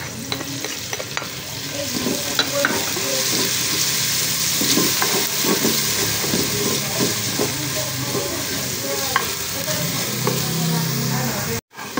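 Onion and garlic sauté in a pan for chicken molo soup, a loud, continuous sizzle and hiss with occasional stirring clinks, heard alone without speech.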